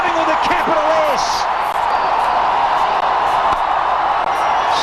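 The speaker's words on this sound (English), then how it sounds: "Listen to this crowd go crazy." A cricket crowd cheers wildly at a match featuring A.B. de Villiers, a loud, dense roar that goes on throughout while a commentator talks over it.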